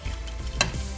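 Bay leaves tumbling into a dry pan while making Malvani masala powder, giving a brief, close scrape and rustle with one sharp clatter partway through over a low background hum.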